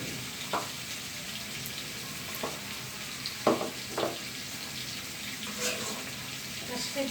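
Mustard and cumin seeds sizzle in hot cooking oil in a pan, a steady soft hiss with a few scattered pops and crackles, fairly quiet and close, with no talking.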